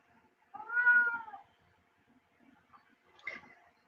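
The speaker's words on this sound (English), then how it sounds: "She likes to sit in the corner and hear herself meow." Domestic cat meowing indoors, one clear drawn-out meow followed by a softer, shorter call a couple of seconds later, close and fairly quiet.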